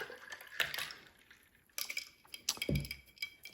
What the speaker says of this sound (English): Then just pour that right in your glass.